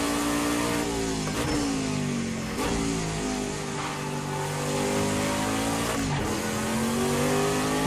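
Prototype race car engine revving hard in the Project CARS 2 Prototype C US Championship, loud and close throughout, with pitch climbing and dropping through gear changes and brief dips at each shift.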